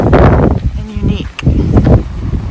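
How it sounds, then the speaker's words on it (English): Strong gusts of wind buffet the microphone in the Colorado Desert part of Joshua Tree, near Cottonwood Springs Oasis trees, a loud rumbling roar that surges and briefly drops. "it is extraordinarily windy today"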